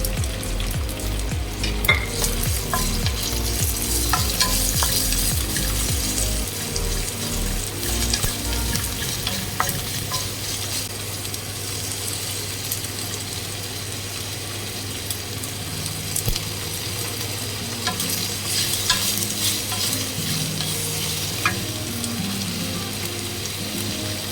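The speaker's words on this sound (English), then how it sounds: "Cook these vegetables on high flame." Vegetables and chopped green chilies for chopsuey, cooked with ginger and garlic, crackle and sizzle loudly on high flame while being tossed and stirred, a dense continuous frying hiss heard close with no talking.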